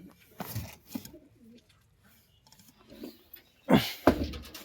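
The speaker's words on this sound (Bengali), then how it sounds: "দেখুন পায়রাগুলো দেখুন" Andhra high-flyer pigeons coo nearby in low, throaty bursts, a few soft calls and then two louder close coos near the end, with quiet pauses between.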